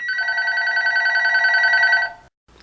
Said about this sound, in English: What really happened last night, Glenn, you went to hook up the antique phone, and when he got done wiring the thing, the phone worked